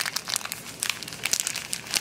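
Chocolate crumpled by hand over a trifle, giving a continuous dry crinkling and crackling close up, with bursts of sharper crackles throughout and no talk.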